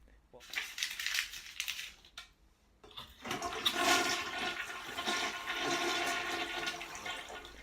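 A toilet flush sound effect plays loudly, a rushing burst of water, a brief pause, then a longer swirling gurgle draining away.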